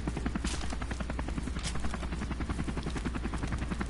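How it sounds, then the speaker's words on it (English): A helicopter in the Modern Warfare Remastered shooter gives a steady, rapid rotor thump with a constant engine drone under it, loud and unbroken throughout. "Oh, the chopper."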